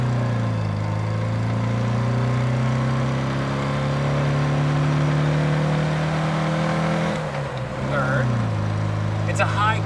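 A 60-horsepower Porsche 356 B engine rises in pitch through first gear, dips during the shift into second, then pulls again, a close and steady drone from inside the car.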